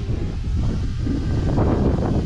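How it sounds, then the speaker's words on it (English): Steady wind roars and buffets a microphone outdoors on a windy day while a Diatone Roma F4 long-range quadcopter is flown, a constant low rush without pauses. "It is windy."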